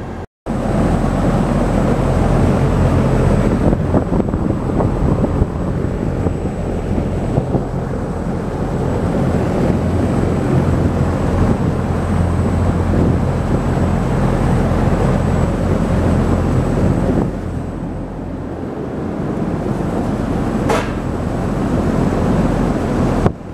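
A Sturtevant Size 8 Design 5 propeller fan on a display stand runs on test, giving a loud, steady whooshing rush of air over a low electrical hum that continues without a break.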